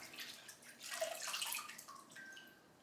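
Lettuce swished around in a bowl of cold water, a soft sloshing and splashing swell that rises and fades over a couple of seconds, quiet and close with a few drips.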